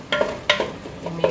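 Chicken and tomatoes being stirred in a cooking pot, a few quick scraping strokes of the spoon against the pot with a faint sizzle beneath, close and clear.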